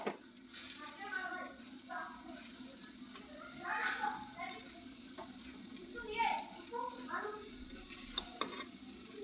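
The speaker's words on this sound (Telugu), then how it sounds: "ఇంకా 10 నిమిషాలు అయితే ఇది ఫ్రై అవుతుంది చికెన్" Chicken frying in a pan for biryani makes a low, steady sizzle with occasional stirring scrapes, faint and somewhat distant, while a voice talks intermittently.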